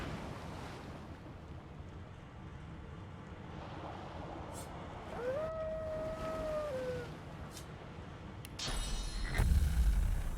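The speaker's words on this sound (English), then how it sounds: "The dog whines and continues pawing at its nose." A dog in Divinity: Original Sin 2 lets out a single drawn-out whine aboard a boat, rising then sliding down, over a steady bed of wind and surf-like ambience with a rough burst near the end.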